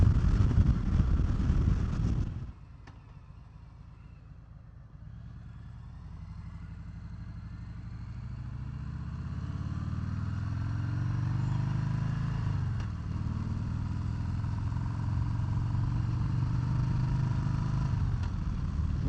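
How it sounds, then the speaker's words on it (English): A 2018 Harley-Davidson Sport Glide motorcycle riding on the interstate, with a steady engine drone and road rush. A louder burst of wind noise at the start drops away, then the engine swells and holds over sustained rumble. "That was a little interstate ride on the 2018 Harley-Davidson Sport Glide."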